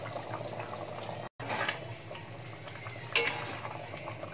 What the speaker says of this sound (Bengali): দেখো ঝোলটা বেশ ভালোভাবে ফুটে উঠেছে